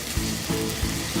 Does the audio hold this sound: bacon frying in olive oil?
yes